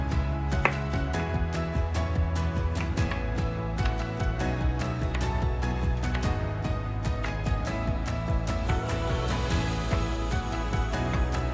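Steady knife chopping of zucchini on a cutting board, cut into slices for Korean zucchini pancakes, with rapid repeated taps running throughout over a continuous background of music.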